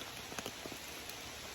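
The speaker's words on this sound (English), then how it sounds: "about 20 minutes too late to beat the rain" Rain falls on a mountain trail rim just after a thunderstorm has passed, a soft steady patter and hiss with a few slightly louder drops, fairly faint and without speech.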